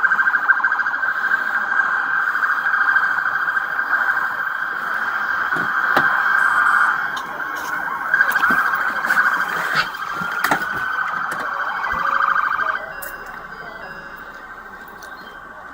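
A steady wailing emergency siren sounds continuously during a police encounter as an ambulance is called in, loud and sustained for most of the stretch before dropping in level near the end, with scattered thumps and movement over it.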